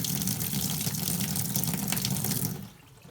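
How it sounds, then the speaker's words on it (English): Dirty water poured out of an aquarium canister filter during cleaning, a full, steady gushing splash into a sink or container that runs strongly, then abruptly slackens to a thin trickle. "We're gonna go ahead and get some of this water out of here so this filter is easier"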